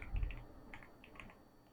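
Quick keystrokes on a computer keyboard while writing Python code, a short burst of soft, close tapping that thins out toward the end, with no voice.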